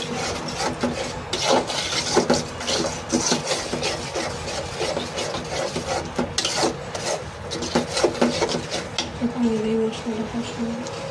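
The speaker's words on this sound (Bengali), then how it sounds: "মশলাটা কষানো শেষ।" A spice masala for biryani is stirred and fried in a pot, giving steady rasping scrapes of a spoon against the pot bottom that repeat in a rough rhythm, close and fairly loud.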